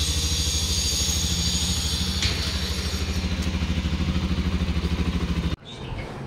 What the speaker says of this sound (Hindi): अभी मैंने उसे कोल्ड स्टार्ट कर दिया एक बार, काफ़ी टाइम से खड़ी है ना, स्टार्ट रही है